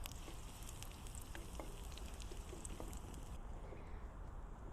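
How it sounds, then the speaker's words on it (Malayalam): Small shallots frying in a pan for fenugreek rice give off a soft, steady sizzle with faint crackles, quiet and continuous, with no voices. "ഇനി ഇതൊന്ന് നന്നായിട്ട് മൂപ്പിച്ചെടുക്കാം."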